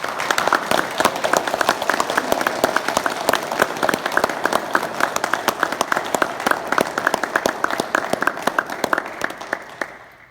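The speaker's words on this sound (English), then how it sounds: "Now that's probably the best round of applause I'm going to get." A crowd at an American Baptist Men of New York State banquet applauds the Man of the Year announcement, steady dense clapping that holds strong for about ten seconds, then fades out.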